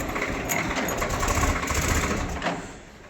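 A Swaraj 855 tractor engine runs with a loud, steady, rough rumble while the tractor drives in high gear, heard close up and continuous throughout.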